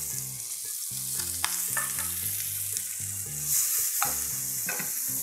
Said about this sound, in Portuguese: vai também grelhar os nossos camarões com casca